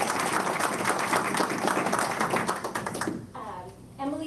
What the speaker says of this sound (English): please one more round of applause